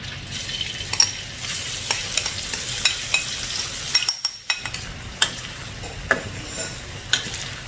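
Turmeric-coated catfish frying in hot oil over low heat, a steady close crackling sizzle with scattered sharp spikes and pops throughout, no talking.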